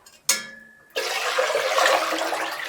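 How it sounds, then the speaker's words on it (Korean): Water rushes loudly and steadily into a 4-litre pot for nabak mul-kimchi, coming right after a short splash and a brief pause, with no talk. "물을 이렇게 풀어준 다음에 물을 부어요"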